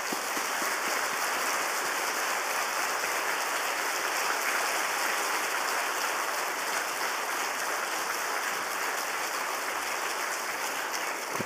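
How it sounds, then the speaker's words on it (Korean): Warm, sustained applause from a congregation welcoming a speaker at a Korean church's autumn revival meeting, a dense and even hiss of many hands clapping without letup. "우리 그러면 나오실 때 우리 뜨거운 박수로 맞이해 주시겠습니다"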